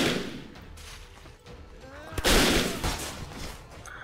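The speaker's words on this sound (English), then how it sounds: "You're lucky this is a musket. Actually, it's a flintlock." In the Blade & Sorcery video game a flintlock musket fires one sharp, loud gunshot midway through, after a stretch of muffled game ambience and movement noise.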